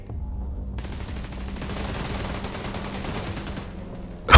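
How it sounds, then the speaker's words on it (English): Sustained automatic gunfire from The Division 2 video game, a dense continuous rattle of rapid shots lasting several seconds with a louder burst at the very end, no talking. "I'm getting peppered with shots"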